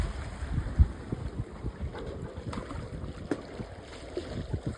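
A sailboat underway in roughly 8 to 9 knots of breeze on open water near islands, with steady low wind rush and water swish on the hull, occasional gusty buffets on the microphone, no voices.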